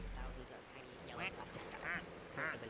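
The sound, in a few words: plastic duck quacking in Placid Plastic Duck Simulator video game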